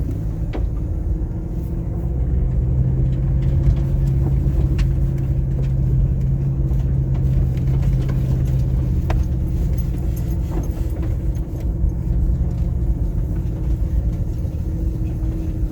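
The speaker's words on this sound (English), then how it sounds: "We're driving round because it's quite muddy" A car drives around a muddy area in Larnaca, Cyprus, its engine a steady, loud, continuous low rumble from inside the vehicle, with occasional faint knocks and bumps over the rough ground.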